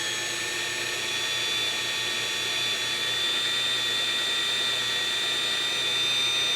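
A drill bores into sheet metal while a dust pan is fabricated, a steady high whine with a faint grinding chatter holding constant and close throughout.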